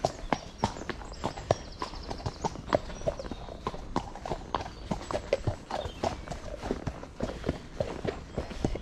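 A horse's hooves clip-clop in a steady walking rhythm along a spring woodland trail, close and distinct, with a faint voice and some rustling beneath.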